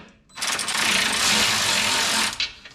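A ratchet spins bolts up into a skid plate on a 2015 Toyota Land Cruiser 200, giving a dense, continuous clicking whir for about two seconds, close and fairly loud, with no talk over it.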